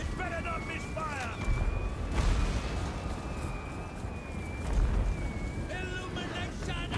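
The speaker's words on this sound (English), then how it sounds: "An opening volley of mortar shells blasted the adversary formation after a series of horns signaled the attack." Heavy rumbling blasts from a volley of mortar shells land in a Total War: Warhammer 3 battle, deep booms swelling twice amid a noisy battlefield, with a thin horn-like tone drifting over the top.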